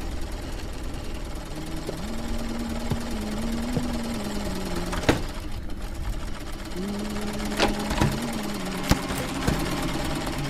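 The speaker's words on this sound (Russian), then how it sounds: "Швейная машинка работает, слышите?" A sewing machine whirs steadily in a horror video game village, its mechanical drone rising and falling in pitch in repeated cycles over a constant background hum, with a few sharp clicks and knocks; no one speaks.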